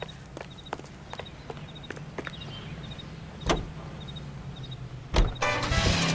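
Someone gets into a car in the video game LA Noire: a series of soft footsteps and light clicks, then two thuds like a car door shutting, ending in a burst of engine or hiss noise.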